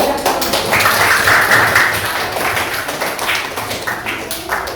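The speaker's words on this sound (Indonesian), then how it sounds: "Ya, tepuk tangan." A classroom of seventh-grade students applauds after a group presentation, with steady, dense clapping sustained close by for several seconds and a few voices mixed in.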